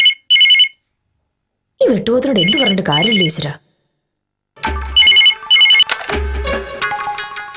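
A telephone rings indoors with short, loud bursts of electronic trilling that stop and start, while someone talks between and over the rings.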